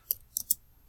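A computer mouse gives three crisp, close clicks: one alone, then two in quick succession, over a quiet background.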